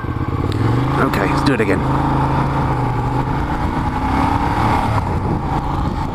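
A motorcycle rides Mulholland with a steady, loud engine drone and brief shifts in pitch as it accelerates, while someone speaks over the ride.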